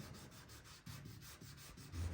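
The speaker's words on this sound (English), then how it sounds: "and Dave's sanding it" Hand sanding of drying primer on K5 Blazer bodywork, a steady dry rubbing scrape that repeats in short strokes, close and moderately quiet, with no talking.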